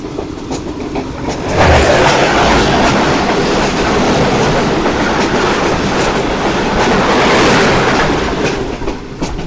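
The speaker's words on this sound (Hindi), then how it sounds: "ये थी 42 डाउन कराकरम एक्सप्रेस HM30 के साथ।" The 42 Down Karakoram Express, a passenger train hauled by an HM30 locomotive, passes on the railway with a loud, steady rumble and rapid clickety-clack of wheels that swells and then stays strong and close throughout.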